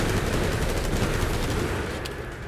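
Dense, sustained automatic gunfire in the video game Resident Evil 4 Remake's Separate Ways campaign, a loud, steady rattle of shots filling the whole stretch without pause, with no one talking over it.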